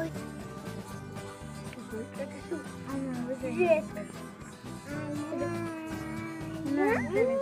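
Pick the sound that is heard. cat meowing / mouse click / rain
cat meowing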